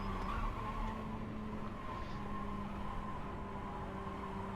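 Race car braking into turn 1 at Lime Rock Park, a steady loud engine drone with a tire-skid hiss held throughout, no talk.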